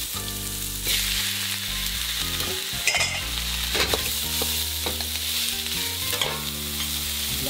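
Chicken frying in a pan for spaghetti kung pao, with a loud close sizzle and repeated scraping stirs over a steady hum, with no talking.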